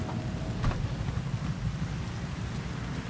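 Rain in the Cyberpunk 2077 Phantom Liberty video game, a steady dense hiss of falling rain over a low rumbling bed, fairly quiet, with a few faint crackles and no voices.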